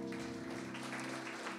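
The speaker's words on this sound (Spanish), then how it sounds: "¿Qué le parece si le damos un aplauso al Señor" A church congregation claps for the Lord during a Friday evening study service, a steady wash of applause blended with sustained organ or keyboard tones underneath.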